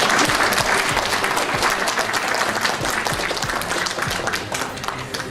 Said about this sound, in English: please give him another big applause